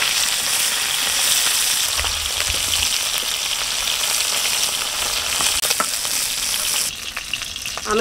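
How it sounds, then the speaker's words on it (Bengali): Cumin seeds crackle and hiss loudly as they are tempered in hot oil in a village kitchen. The dense frying noise holds steady for several seconds, then drops away near the end, and there is no speech. "আমি কয়েকটা জিরে ফোড়ন দিয়ে নেব।"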